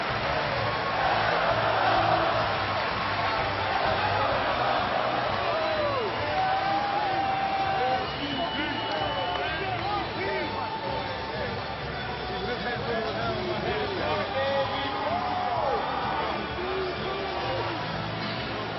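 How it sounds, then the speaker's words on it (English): Arena crowd noise fills a packed Madison Square Garden after a college basketball game between Xavier and Villanova, a steady roar of hubbub with whoops and cheers, loud and continuous, with talk mixed into the din. "just listen to this crowd here at Madison Square Garden"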